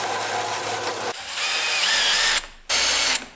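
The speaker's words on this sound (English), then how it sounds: "I'm going to drill them all out on the drill press" A drill press bores holes through wooden porch swing pieces, running in two steady bursts with a short pause between them and a sharper whine in the middle stretch, alone without talk.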